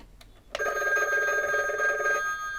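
A Disney Mickey Mouse limited-edition animated toy telephone rings with a loud, steady electronic bell tone that starts sharply after a brief quiet lead-in and runs continuously for about two seconds before cutting off.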